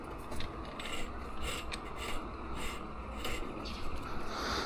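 During a FlexRing installation, a pump turns as a clamp is engaged, giving a faint, continuous mechanical grinding with light ratcheting and gear-like clicks throughout.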